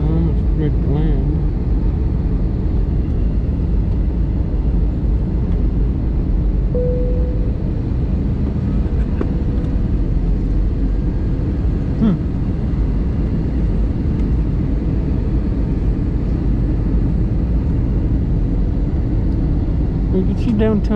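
Inside an airliner cabin on the landing approach to Denver after a flight from Las Vegas, a steady, loud, low engine and air rumble drones without a break, with faint voices underneath.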